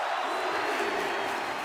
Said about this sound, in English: Again, this is awesome chants from the crowd.